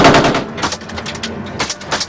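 Soldiers fire back at Al-Shabaab attackers in a rapid series of loud, close gunshots in uneven bursts, sharp cracks following one another with brief gaps between.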